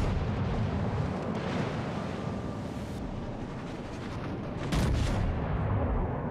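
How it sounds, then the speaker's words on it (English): Battleship guns firing in World of Warships Legends as a heavy, continuous rumble of naval gunfire and explosions, loud and dense throughout, with a sharper blast near the end. "Now his guns are firing quicker than mine"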